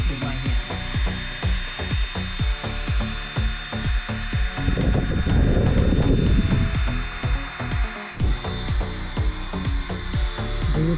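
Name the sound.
drill polishing car bumper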